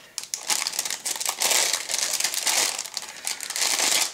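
A plastic bag holding sprues from a 1:35 scale model kit of Turkish infantry weapons and equipment crinkles loudly and close by, in continuous crumpling bursts.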